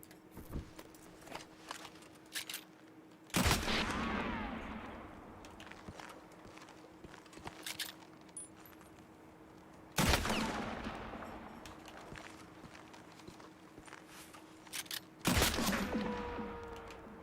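Ricocheting gunfire in Red Dead Redemption 2 on an icy landscape: three loud, isolated shots crack out several seconds apart, each followed by a long ringing, whining decay over a quiet hum with faint scattered clicks.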